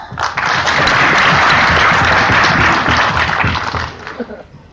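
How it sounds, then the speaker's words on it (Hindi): An audience at an education seminar breaks into loud, dense applause that swells quickly, holds for several seconds, then tapers off. "तालियां तो यहां बज रही हैं"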